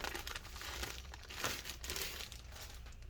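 Bubble wrap packaging around a new replacement LCD screen assembly for a 13-inch MacBook Air A1466 is peeled open, giving a steady close crinkling and crackling with a brief louder tear partway through.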